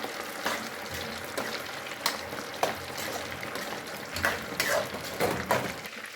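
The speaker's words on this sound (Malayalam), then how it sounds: "കണ്ടോ, തിളച്ച് മറിയുന്നുണ്ടോ." Chicken pieces frying in boiling oil for chicken chilli, a quiet, continuous crackling sizzle with brief stirring scrapes and small bursts of popping throughout.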